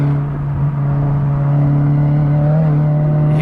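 Car engine howls at steady high revs with a brief rev spike as the inside tire lifts over a corner curb, loud and continuous from onboard.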